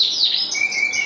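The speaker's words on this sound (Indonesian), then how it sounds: "dengan kandang inilah kenari-kenari anakan Yorkshire itu menetas dan tumbuh di kandang kecil seperti ini" Yorkshire canary chicks in a small breeding cage chirp in steady, high, thin peeps, close and continuous with no other sound over them.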